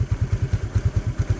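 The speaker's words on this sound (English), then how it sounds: "can actually hear the gear kicking in" A motorcycle engine thumps in a steady low rhythm, each pulse distinct and close, like the bike lugging as a gear takes hold.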